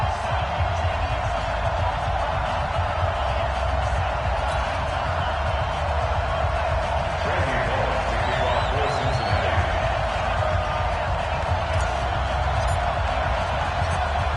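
A stadium crowd roars in an EA Sports football game before a Cincinnati Bengals versus Pittsburgh Steelers matchup, a steady distant wash of cheering that holds at one level throughout, with a commentator talking over it.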